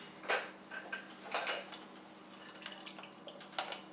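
Water trickles and drips from a disconnected reverse osmosis filter line into a catch container, with close clattering of the container and fittings in short bursts.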